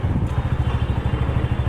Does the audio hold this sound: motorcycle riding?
yes